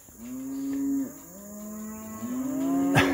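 Cattle lowing during a fall road drive of cows and calves between farms, several long loud moos in sequence, close by, with a brief clatter at the end.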